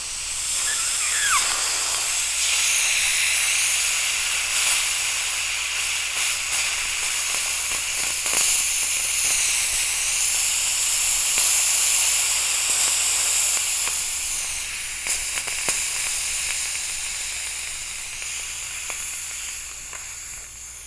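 Steady, loud high-pitched air hiss as pressure is bled off a Daystate 110V 4500 PSI portable compressor with its tank shut, continuous for about twenty seconds and tapering slightly near the end.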